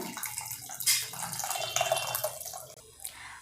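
Tamarind water splashes and trickles as it is poured into a fish curry in a pan, a continuous close liquid pour with a few brighter splashes and no talking.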